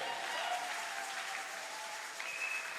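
A church congregation at a Sunday service claps loudly and continuously, a sustained wall of applause with a faint whistle or shout cutting through near the end.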